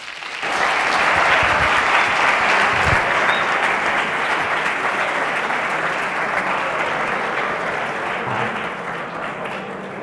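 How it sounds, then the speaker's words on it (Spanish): An audience at a talk on quantum computing bursts into loud, sustained applause welcoming a speaker, rising quickly and holding steady for several seconds before slowly tapering. "vamos a recibir con un fuerte aplauso a Manuel Ángel"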